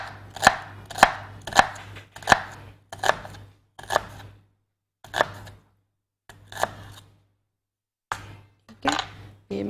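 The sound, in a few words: slicing onion with a knife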